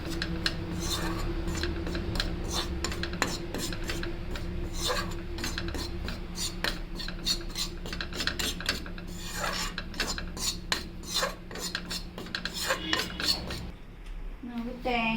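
Spoon scraping and clattering against a pan as turmeric-dusted ingredients are stirred and roasted, with steady metallic rubbing and clinks throughout before a brief quieter stretch at the end.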